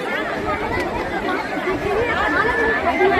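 Loud, continuous hubbub of a vast gathering at a Shiv Mahapuran katha in Bhilai, Durg, Chhattisgarh, countless voices blending into a near, unbroken wall of chatter.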